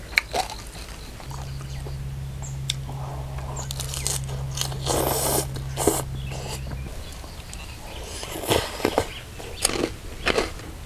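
Close, loud crunching bites and chewing of crispy pork papaya salad (som tam moo krob) outdoors in a rice field, repeated crisp snaps with a steady low hum partway through and no speech.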